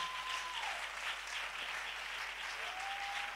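A church congregation applauding together, a steady broad wash of clapping sustained throughout with no pauses, fairly loud and close.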